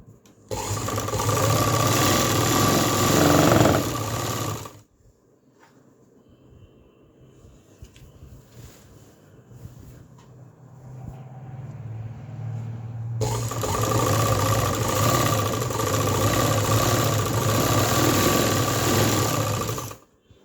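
Sewing machine stitching the seams of a salwar, running loud and steady in two long bursts with a quieter pause of handling sounds between them, no talk.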